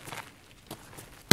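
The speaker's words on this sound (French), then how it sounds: "Ouais, c'est moi qui cours." Running footsteps in Escape From Tarkov, a few quick soft thuds spaced apart, then a louder sharp step at the end.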